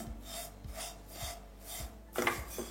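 Powdered sugar is mixed into vermicelli (semai), making soft, regular rubbing and rasping strokes about twice a second, quiet and close with no talk.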